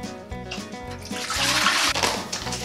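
Water pours steadily into a yogurt gelato mix, a continuous rushing splash that grows louder and fuller midway and carries on to the end.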